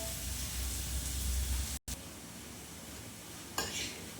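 Desi ghee tadka frying in a pan, a steady loud sizzle with stirring, broken by a brief pause and a short clatter near the end.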